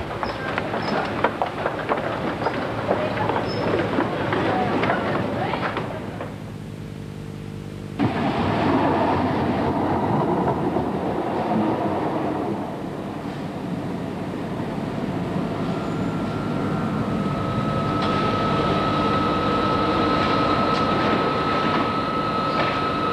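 Metro trains arrive at a station on Tyneside in Newcastle upon Tyne, with rumbling wheels, clatter and braking, a brief lull, then another train rolling in with a rising whine, near and fairly loud.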